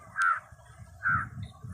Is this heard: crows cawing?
yes